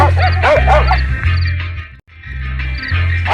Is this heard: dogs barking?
yes